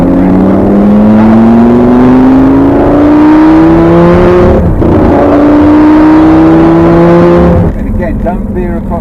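A supercar's engine pulls hard while driving, a loud rising drone climbing in pitch through two long acceleration runs with a brief dip between, ending as the power eases off.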